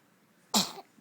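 A single short, sharp sneeze bursts out close by in a quiet room, one abrupt explosive puff that fades within a fraction of a second.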